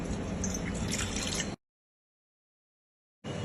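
Water is poured into a bowl for ghatiya dough, a close, steady splashing pour that stops abruptly, goes silent for over a second, then starts again.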